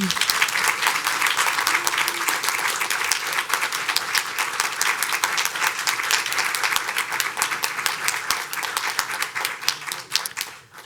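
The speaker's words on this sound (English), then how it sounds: "Audience, you may applaud the candidates now." A council-chamber audience applauds school board candidates at a local election forum, a steady, dense wash of clapping that fills the room for the whole stretch and tapers slightly at the end.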